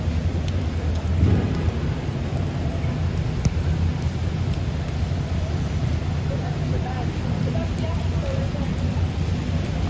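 Heavy rain pours down on a Manhattan street at night, a dense steady hiss with low rumbling thunder underneath, constant and loud for the whole stretch, with faint voices mixed in.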